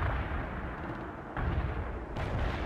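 Artillery fire in the real-time strategy game World in Conflict, heavy low booming blasts over a dense rumbling battlefield bed, with fresh impacts swelling the din about midway and again near the end.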